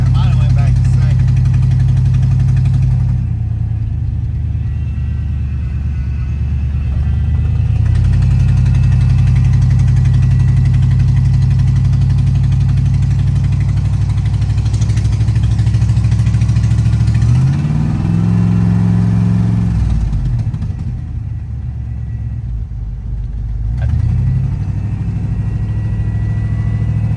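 A V8-swapped Chevrolet S10 truck that sat for years, running and driving with a deep, loud continuous engine drone that dips and climbs through gear changes and revs, heard from the cab with occasional talk.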